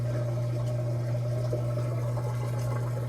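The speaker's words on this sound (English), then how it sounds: "And sure enough, the water is draining." A Samsung washing machine draining water: a steady, loud pump hum drones continuously beneath a faint wash of sloshing water, with no talking.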